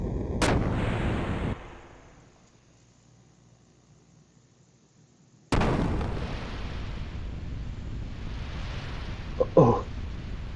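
Cannon fire from a ship in the video game Xenogears, with a booming blast that decays into quiet, then a second sudden loud burst that leaves a sustained roaring rumble with a small crackle near the end.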